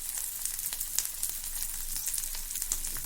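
Green chillies sizzling and frying in a pan for a chilli fry side dish, a steady crackling hiss with scattered pops throughout, close and continuous with no talk.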